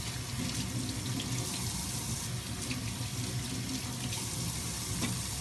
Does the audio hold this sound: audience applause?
no